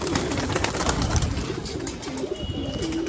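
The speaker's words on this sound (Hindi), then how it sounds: "ये मेरे हिसाब से नर है क्योंकि ये गुटरता है" A male black-tailed pigeon coos in repeated soft, rolling calls close by, over a busy background of other birds and ambient outdoor noise.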